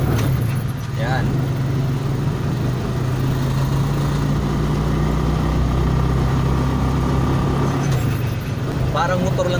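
A RUSI four-wheeler's semi-automatic engine runs steadily with a low, constant drone as it pulls away in second gear, close by and under brief talk.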